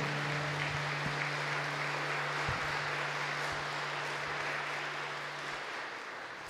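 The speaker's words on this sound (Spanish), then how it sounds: "Fuerte el aplauso para las familias aquí presentes." An audience applauds at a Christian trova concert, a sustained wash of clapping held at an even level under a faint low hum throughout.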